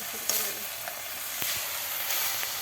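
Greens stir-fried in a pan give a soft, steady hiss and sizzle with a few faint clicks of stirring, quiet and close throughout.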